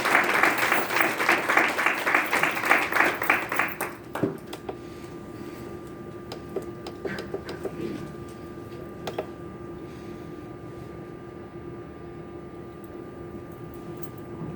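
An audience at a conference keynote claps to welcome a speaker to the stage, a loud, brisk round of applause that stops abruptly after about four seconds, leaving a quiet room with scattered faint ticks and rustles.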